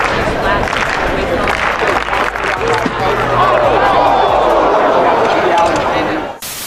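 A dense, loud roar of spectators at an athletics event fills the stands with cheering and applause, holding steady before cutting off abruptly near the end.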